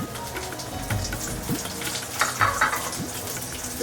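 Chili added to onions browning in hot oil for vegetable stick noodles: a steady crackling sizzle with occasional stirring scrapes and louder spatters near the end, close and constant.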